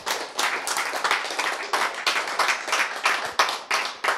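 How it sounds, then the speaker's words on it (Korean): A lecture audience claps in a brief burst of applause, individual hand claps distinct and fairly close, uneven rhythm running through the whole short stretch. "뉴 스타트지, 박수"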